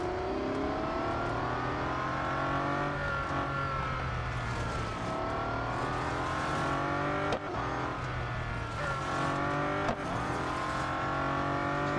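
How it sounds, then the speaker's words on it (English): The Mazda 787B race car in Real Racing 3 roars with its engine held at a loud, steady high-revving howl, with pitch rising and dipping through shifts and a few sharp clicks over the sustained drone. "Just look at the speed of this car,"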